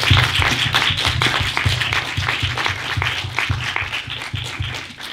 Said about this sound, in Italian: Quindi mi unisco anch'io all'applauso